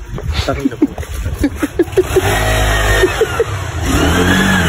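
A motorcycle with a modified, dirty exhaust revs steadily and loudly through its pipe for the latter half, a continuous throaty drone, preceded by people chatting and chuckling nearby.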